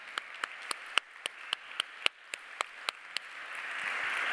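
Applause at a festival talk on ecological transition, a sparse, faint run of a dozen or so distinct claps at a steady pace, fading into a soft hiss of crowd noise.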